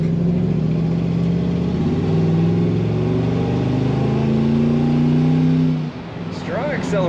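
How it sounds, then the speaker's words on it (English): The engine of a 1951 Chevrolet 3100 five-window street rod pickup with an automatic transmission pulls hard under acceleration, a loud rising drone that holds for about six seconds and then cuts off, followed by a brief voice. "Acceleration from this truck."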